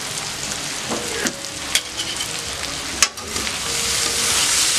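Vegetables fry in a pan with a busy, continuous sizzle, broken by several sharp scrapes and clacks as a utensil stirs them, and the sizzle swells toward the end.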